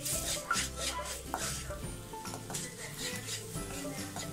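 Spice powders sauté in a pan for a vegetable masala: a spoon scrapes and taps the pan repeatedly over a low, soft sizzle.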